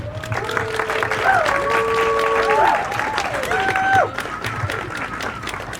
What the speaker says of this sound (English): So please give a warm round of applause for Julian Molina